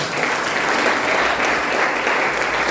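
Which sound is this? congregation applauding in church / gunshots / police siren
congregation applauding in church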